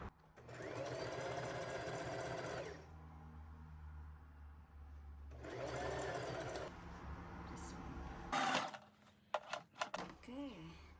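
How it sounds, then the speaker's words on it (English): Sewing machine zigzag-stitching along a jeans waistband, running in two bursts of steady rapid whirring separated by a pause, followed by clicks and brief handling noises near the end. "Adjust the width of your machine and do the zigzag."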